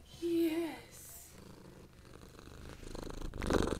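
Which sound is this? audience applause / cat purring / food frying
cat purring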